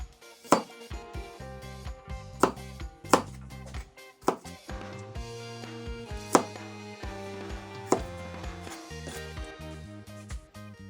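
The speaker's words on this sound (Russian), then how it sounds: "Зубчики чеснока разрезаем на 2-3 части." Garlic cloves are cut on a board with a knife, giving sharp, loud, fairly regular chops every second or two, each ringing a little against the surface, with no voice.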